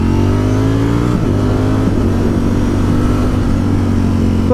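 A 2020 Ducati Streetfighter V4 S motorcycle engine revs hard and continuously up close, a loud steady roar with small rises in pitch as it climbs through the revs.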